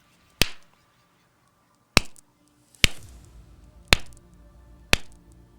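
Five sharp, isolated hand claps sound one by one at irregular intervals, each ringing briefly in a quiet room, made to line up audio and picture.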